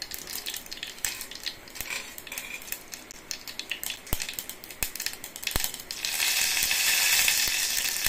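Mustard seeds crackling and spattering in hot oil in a home kitchen pan while making a drumstick egg masala curry, a dense steady sizzle with scattered sharp pops that swells louder toward the end.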